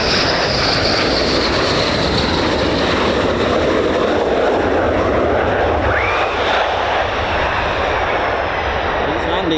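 Fighter jet, an F-15 or F-35, landing at RAF Lakenheath with the 48th Fighter Wing, a loud continuous engine roar filling the whole stretch with steady broadband rumble and no break, while someone talks underneath.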